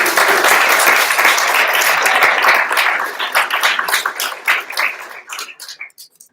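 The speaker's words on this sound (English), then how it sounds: "I think you guys should give yourselves a round of applause" An audience at a university event gives a dense round of applause that holds steady for several seconds, then thins into scattered claps and fades out.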